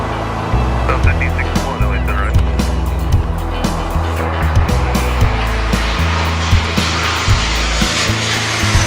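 Loud, steady engine roar of the SOFIA aircraft, a modified airliner, during takeoff, heard from the cockpit jump seats, with a constant drone and rattling thumps throughout.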